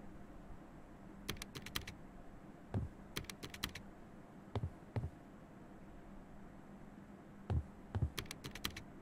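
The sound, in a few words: old non-mechanical computer keyboard typing in Infliction video game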